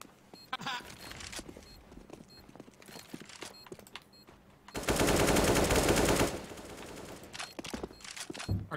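Counter-Strike gunfire on the Dust2 map: scattered single shots and short bursts, then a sustained loud automatic spray lasting over a second, with players talking throughout.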